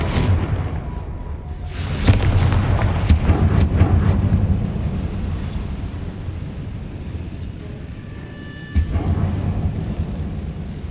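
Confringo explosion spells from Hogwarts Legacy go off as heavy rumbling booms, with sharp bursts near the start and a later blast over a continuous noisy roar.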